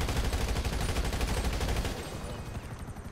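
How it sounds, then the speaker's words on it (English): Rapid automatic gunfire from GTA 5 Online hammers out in a dense, evenly spaced burst, loud and close, then tapers off toward the end. "Just gunned him down."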